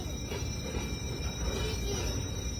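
A railroad wagon rolls along the rails with a continuous low rumble and thin, sustained squealing tones from the wheels, steady and fairly close, with no voices.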